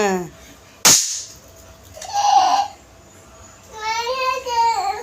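A single sharp, loud bang of a firecracker bursting, surrounded by children's excited voices before and after.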